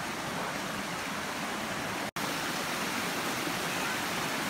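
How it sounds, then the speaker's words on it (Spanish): Close, steady rush of a stream of warm water fed by hot springs at a bathing resort in Chiapas, a continuous broadband flow that fills the whole stretch with one brief dropout near the middle. "Vean nada más qué bonito arroyo."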